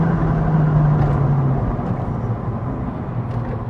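A 2021 McLaren 720S Spider supercar accelerating hard, its engine a loud, continuous roar with a falling drone of wind and road noise from the cabin.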